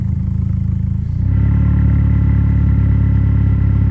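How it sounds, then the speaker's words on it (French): Renault Megane 4 RS Trophy engine running in sport mode, a loud, steady, low throbbing drone that shifts at about one second into a deeper, fuller and more muffled rumble, then holds evenly to the end. "Ah, déjà le moteur il ronronne de manière différente."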